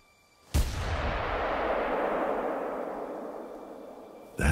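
Single rifle shot fired at an animal in The Hunter: Call of the Wild, a sharp loud crack followed by a long rolling echo that fades over several seconds, then a second sharp report at the very end.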